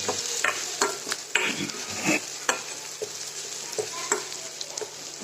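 Onions frying in a pan for a Marathi dill and mixed-lentil vegetable dish, a steady close sizzle broken by repeated sharp scrapes and clinks of a spoon stirring against the pan, with no talk.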